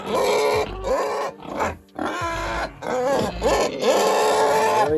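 Several piglets grunt and squeal close by on a farm, loud overlapping snorts and high squeals in irregular bursts with brief pauses.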